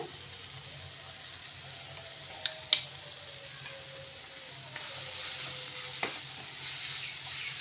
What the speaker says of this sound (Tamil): இந்த பொடி ஆட் பண்ணோன்னா ஒரு நிமிஷம் நல்லா ஃப்ரை பண்ணி விட்ருங்க